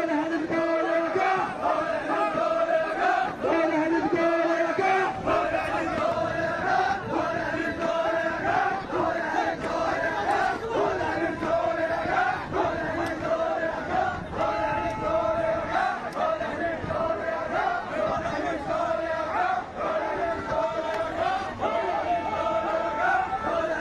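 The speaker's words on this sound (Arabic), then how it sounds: "ردد المحاضرون هتافات منددة بالسياسات الحكومية والتسويف المستمر لمظلوميتهم." Protesting lecturers chant slogans against government policies, a crowd's voices rising and falling in steady rhythmic call-and-response cadence, loud and continuous throughout.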